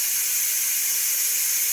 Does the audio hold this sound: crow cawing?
no